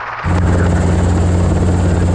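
A helicopter at a landing pad near Long Beach airport roars up suddenly after a brief quieter moment, then holds a loud, steady, close rotor-and-engine drone with a constant low hum.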